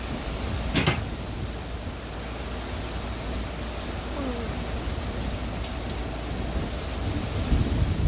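Thunder from a nearby storm over steady rain, with a sharp crack early on and low rumbling building toward the end, loud and close.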